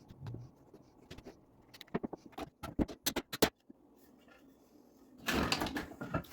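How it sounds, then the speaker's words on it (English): Wooden pieces of a homemade children's swing being clamped together after gluing: a run of sharp clicks and knocks, some in quick bursts, then a louder rustling, scraping stretch near the end, close and fairly quiet. "Once I'm happy with the fit up, I apply glue, spread it out, and clamp everything together."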